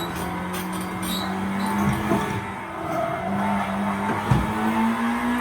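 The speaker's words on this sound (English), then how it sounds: "Got a brake lock there." A Honda race car locks its brakes and skids, a short tire squeal rising over a steady, loud engine drone, with a few brief scraping bursts near the end.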